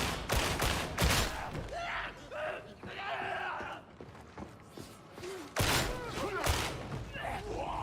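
Rapid bursts of gunfire from a weapon in the Darktide video game, loud and dense across most of the stretch, mixed with thuds and other game noise.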